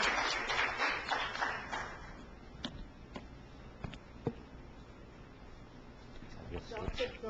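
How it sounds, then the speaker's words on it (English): Applause for a speaker at a conference session, a brief burst of moderately loud clapping that quickly thins out into a few scattered claps and quiet room noise. "Give a round of applause"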